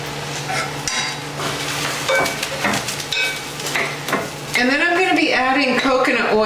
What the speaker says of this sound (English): So I have my wooden spoon here, and what we want to do is just stir it occasionally